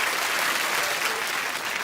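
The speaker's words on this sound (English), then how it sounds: "Give them a nice clap," A studio audience at a TV game show bursts into a steady wash of clapping, dense and even throughout the brief moment with no voices standing out.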